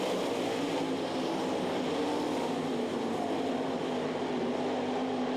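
Sprint cars race around the Knoxville Nationals dirt oval, a steady, dense engine roar filling the air at a distance with no breaks, a constant wall of motor noise throughout.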